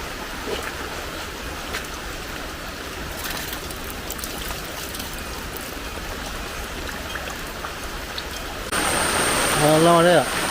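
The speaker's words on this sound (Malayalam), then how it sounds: "നല്ല മഴയാ." Heavy rain pours down at home in a steady, dense hiss that holds even and loud, and a voice joins near the end.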